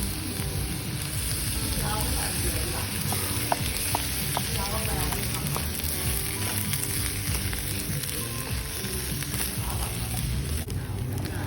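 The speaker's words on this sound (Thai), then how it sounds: "เราจะใส่มะเขือเปราะลงไปผัด การผัดแบบนี้จะช่วยให้มะเขือเปราะของเราไม่ดำ" Thai eggplant stir-fried in a pan for beef green curry crackles and sizzles steadily up close, with light spatter pops and stirring scrapes throughout.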